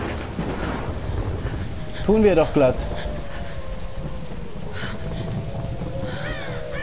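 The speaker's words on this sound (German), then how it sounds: "Suchen Sie Zuflucht vor dem Unwetter." Thunderstorm rain in the Tomb Raider video game, a steady broadband hiss that runs under German commentary the whole time, with a brief voiced burst partway through.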